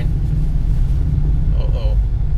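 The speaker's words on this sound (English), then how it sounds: "we're gonna see how two-wheel drive does just going up a hill" A 1988 Toyota 4Runner with the 3VZE engine climbs a gentle incline in two-wheel drive, its steady low engine rumble and road noise filling the cab continuously, with a brief faint chirp partway through.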